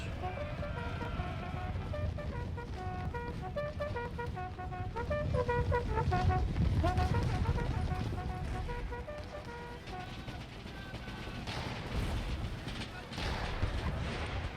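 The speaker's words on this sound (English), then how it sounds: "Not a good idea to have the cannon firing into the charge." Cannon artillery firing in the strategy game Empire: Total War, heavy booms rolling over a dense battlefield din with horns and shouting, continuous and loud throughout.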